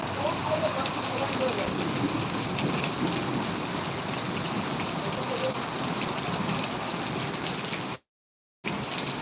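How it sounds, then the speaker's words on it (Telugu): Heavy rain pours over Hitech City in Hyderabad, a dense, constant roaring hiss that fills the scene loudly and evenly, broken by a brief moment of silence near the end. "వర్షం అయితే చాలా పెద్దగా పడుతుంది హైదరాబాద్ హైటెక్ సిటీ."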